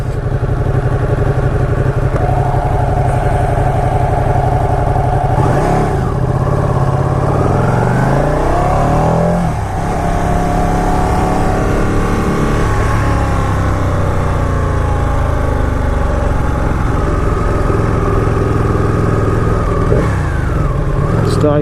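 Ducati 959 Panigale sport motorcycle ridden through Cambridge traffic, its engine droning loud and steady close by with rises and dips in revs and passing road noise throughout.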